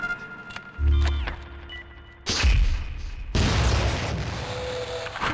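Grenade blasts from a MULE launcher in the video game Gunman Chronicles: a deep boom at about one second, then two sharper, louder explosions a little later, each trailing into a rumbling decay.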